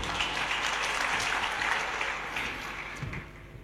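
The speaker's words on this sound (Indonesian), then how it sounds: "Tepuk tangan saudaraku." A church congregation applauds during a sermon, a continuous moderate wash of clapping that gradually fades toward the end.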